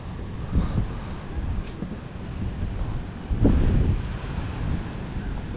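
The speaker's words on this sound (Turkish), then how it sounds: "deniz dediğim gibi arkadaşlar çok dalgalı görünüyor" Surf and gusting wind at Patara beach, with rough, choppy sea, roar steadily and close, and heavier waves swell twice amid constant wind buffeting on the microphone.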